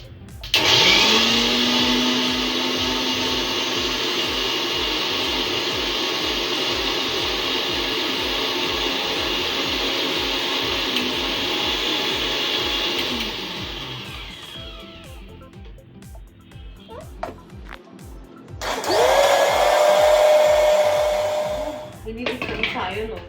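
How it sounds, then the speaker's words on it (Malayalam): A mixer grinder whirs loud and steady for about fourteen seconds while it grinds bread with coconut, sugar and milk powder into crumbs, then winds down, with a short second burst after a pause. "ഇനി നമുക്ക് അടച്ചു വെച്ച് മിക്സ് ചെയ്യിപ്പിക്കാം"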